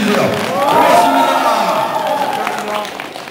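A crowd applauds and cheers at a gateball event in Geumsan, South Chungcheong, a broad mix of clapping and voices under an announcer's talk.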